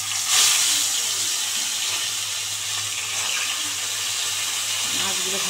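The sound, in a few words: fish frying in hot oil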